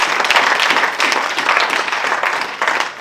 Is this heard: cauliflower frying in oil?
no